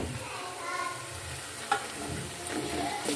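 Garlic-ginger paste fries for beef haleem with a soft, even sizzle, the pan fairly quiet overall. A single stirring knock stands out in the middle, and there is no talking.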